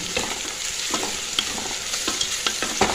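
Onions sautéing in a pan with steady frying crackle and repeated scraping strokes of a spatula, close and clear, no talk.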